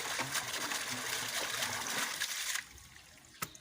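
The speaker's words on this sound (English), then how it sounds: "So if I just pull this, the water will come out." Water trickles steadily out of a drainage pipe in a domesticated water hyacinth setup, a close, soft splashing flow that stops abruptly partway, leaving quiet with one small drip or knock afterward.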